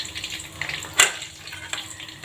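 Tofu and mujair fish fry in hot oil with a dense, steady crackling sizzle, close and fairly loud. One sharper pop or splash stands out partway through, and no one speaks.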